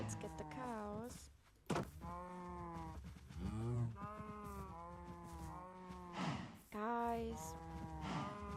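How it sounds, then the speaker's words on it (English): Cows in the video game Minecraft mooing in a run of loud, drawn-out, wavering calls that follow one another almost without pause for several seconds. "now let's get the cows."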